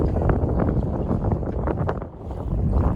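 Wind rushing steadily across a microphone aboard a sailboat at sea in an eight-knot breeze, a loud continuous buffeting roar that dips briefly near the end, with no voices.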